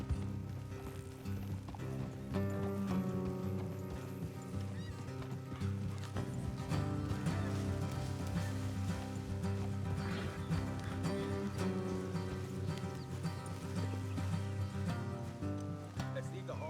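Horses gallop in Red Dead Redemption 2 in a steady rhythmic clatter of hooves, layered under constant music throughout.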